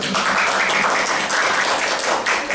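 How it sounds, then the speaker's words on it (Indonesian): An audience claps steadily for Pak Roma at an Indonesian school gathering, a dense, even wash of applause that holds from start to finish without pause. "mari beri aplaus kepada Pak Roma"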